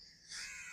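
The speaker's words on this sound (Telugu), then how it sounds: "ఈ కాకులు గోలతో చచ్చిపోతున్నాం అనుకో" Crows cawing in a rowdy flock at daybreak, a brief harsh call swelling partway through and holding loud and close.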